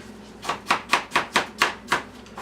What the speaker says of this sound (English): what I do is I just cut up each one